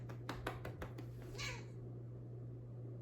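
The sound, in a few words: cat meowing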